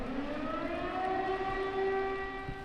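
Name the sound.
wailing siren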